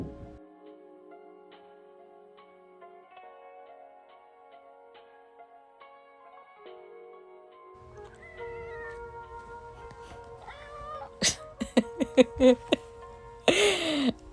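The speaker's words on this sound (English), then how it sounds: "my cat is being an attention seeker because that was him meowing" A pet cat meows several times in quick succession near the end, loud and close, after a long stretch of quiet room tone.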